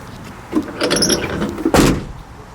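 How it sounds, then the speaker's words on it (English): A pickup truck door, just fitted with a universal power lock kit, swings shut in its jamb with a solid thump near the end, preceded by softer handling clunks and rattles; no one speaks. "final test to make sure the door still can close here in the jam"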